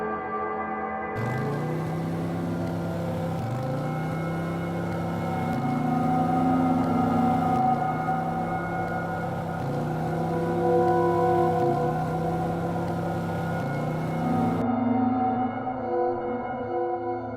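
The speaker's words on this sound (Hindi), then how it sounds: "शॉन की बात सुनकर बाबा ने अपनी सुपर बाइक उड़ा दी" A cartoon super motorbike revs in a repeating series of rising, whooping engine sweeps, about seven in a row, loud and close over a music-like tonal bed, then cuts off abruptly.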